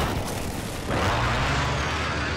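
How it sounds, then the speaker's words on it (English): Precision airstrike in the Call of Duty Modern Warfare video game, heard as a dense, roaring blast of explosions that swells partway through and holds steady, loud and continuous. "Friendly precision airstrike on the way."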